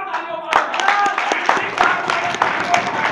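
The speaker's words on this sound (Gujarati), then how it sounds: "ફરી એકવાર તાળીઓ પાડો" An audience in a hall claps in a dense, continuous burst of applause, with a voice talking over it throughout.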